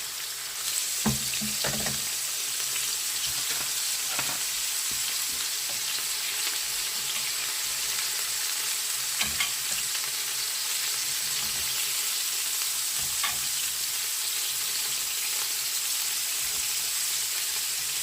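Cabbage rolls fry in butter in a pan with a steady, close sizzle and crackle that runs throughout, with a few faint pops and clinks and no talking.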